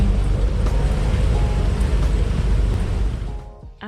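Strong wind gusting around an anchored boat in a storm near 60 knots, with waves slapping the hull in a loud, continuous roar that drops away sharply at the very end.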